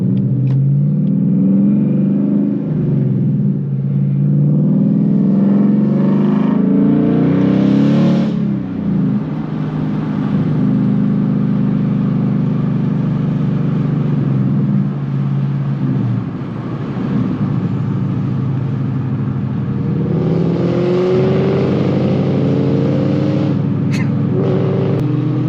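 A 2019 Ford Mustang GT engine rumbling and revving, deep steady throb with a couple of swells in revs, heard close with no talking over it.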